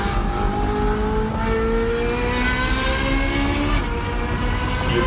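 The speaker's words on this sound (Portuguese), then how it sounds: "eu digito ali Ferrari Tunnel Sound, em inglês, né? E aparece ele." A Ferrari engine revs in a tunnel, rising and falling harmonic whine over a dense roar, loud and continuous with echoing reverberation throughout.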